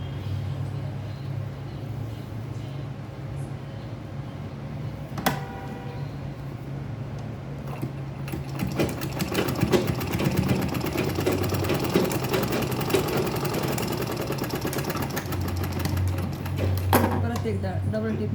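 A sewing machine stitches fabric for a makeup bag, running in steady rapid bursts over a low background hum, with a louder stretch of close stitching in the second half.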